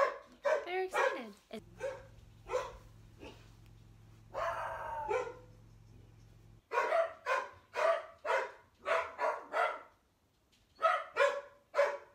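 A dog barks repeatedly in sharp bursts, close and loud, with short pauses between, while a low hum runs beneath part of it.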